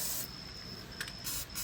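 Short bursts of aerosol spray hiss from a can of pest exclusion product as it is applied around a dryer vent access point on a house exterior, close and steady with brief gaps.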